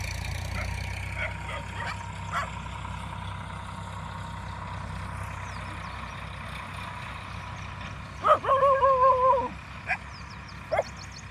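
Dogs bark outdoors amid a low steady rumble, with a single drawn-out yelping bark standing out near the end and a few faint distant yips scattered through.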